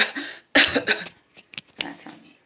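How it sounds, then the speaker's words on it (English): Someone in another room with a bad cough lets out a hoarse cough, then a cluster of smaller coughs and throat clearing, moderately loud with short gaps. "She's got a really bad cough."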